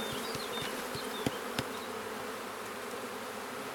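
Honeybees buzz at an open beehive during a hands-on beekeeping class, a dense, steady hum of many insects close by, with a few faint clicks and knocks of frames being handled.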